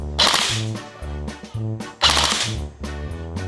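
A Bolt BR-47 CQB airsoft AEG fires on full auto in two short, sharp rattling bursts about two seconds apart, close and crisp, with a humming motor tone under each burst.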